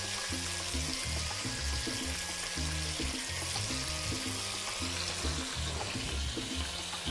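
Ingredients browning in a hot pan for pasta alla zozzona, a steady close sizzle and crackle of frying with faint stirring scrapes underneath, continuing without a break throughout.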